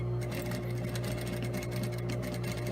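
Sewing machine running continuously to stitch a dart on a slipcover for an armless chair, a loud, close, fast mechanical whirring hum with rapid needle ticking throughout.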